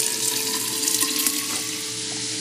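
Water pouring steadily from a tap into a kettle in a video game, a continuous hissing stream, close and fairly loud, with no talking.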